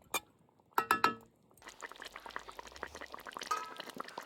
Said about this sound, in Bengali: গ্রেভি খুব ভালো করে ফুটে গেছে, এবার ভেজে রাখা কাতলা মাছগুলো দিয়ে দেবো